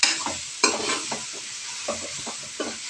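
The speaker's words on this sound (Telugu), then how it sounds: "అందుకే సపరేట్గా లివర్ వేయించుకున్నా" Liver frying in a pan, stirred with sharp scrapes and clinks over a constant close, hissing sizzle, with no voices.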